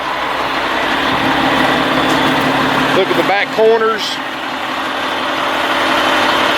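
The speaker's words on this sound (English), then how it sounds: "I've got the motorhome running." A 2006 Country Coach Inspire Class A motorhome's 400 Cat diesel engine idling as a steady low rumble under wind noise, with a nearby generator running, while someone talks briefly over it.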